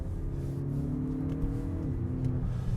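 Engine of a 2025 Nissan Murano with a 9-speed automatic in sport mode, revving steadily with a rising and falling hum as it downshifts, heard from inside the cabin, with no talk.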